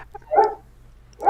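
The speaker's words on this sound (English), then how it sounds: "yes, the dogs are happy." Dogs barking, one short close bark followed by a pause and the start of another, fairly loud and with no talk.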